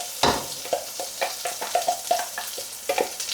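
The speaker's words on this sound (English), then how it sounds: "So now we just add our pureed onion paste back in again." Pureed onion paste goes into a hot pan and is stirred, giving a run of quick, rhythmic spoon scrapes over a soft background sizzle.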